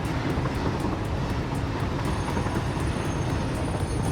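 A train rumbling past in Satisfactory, a steady broadband roar with faint rhythmic clatter, loud and close throughout with no talk.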